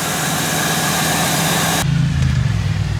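A used, worn 2003 Ford Super Duty truck engine runs loud and close, a dense rumbling roar that drops abruptly to a lower, throbbing idle with steady low pulsing.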